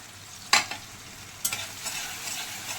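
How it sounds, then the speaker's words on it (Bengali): Beaten eggs fry with onion, tomato, green chilli and coriander leaves in a pan. A soft sizzle runs underneath two sharp spatula scrapes and stirring, with no talking. "এবার ভালো করে ডিম পেঁয়াজ টমেটো ধনে পাতা ফ্রাই করে নেব"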